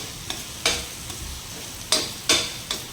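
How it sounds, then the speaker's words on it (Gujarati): Spices for Girnari khichdi are sautéed and stirred in a pan, with a soft sizzle under several sharp scraping strokes of a spoon against the metal, close and clear. "અને હવે આ બધું જ 1 મિનિટ માટે સાંતળી લઈએ આ રીતે."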